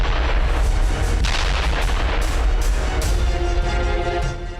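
Israeli bombardment explosions in Lebanon: loud, continuous heavy booms and rumbling blasts with sharp cracks layered throughout, dense and overlapping, fading slightly at the end.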